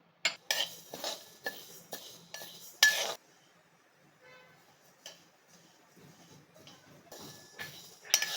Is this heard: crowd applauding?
no